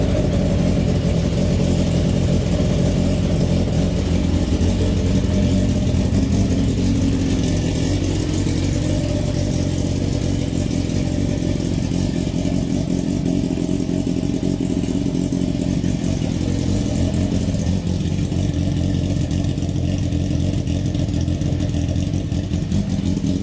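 Dirt car fitted with a 2004 Gixxer 1000 engine and a Toyota rear end, running loud and close throughout, with a dense steady roar and slow rises and falls in pitch as it revs, with no talking.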